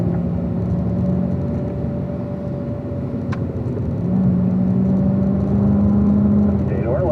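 A car's engine drones steadily while driving on a race track, a low sustained hum that swells slightly as it accelerates, running continuously under a voice giving driving instructions.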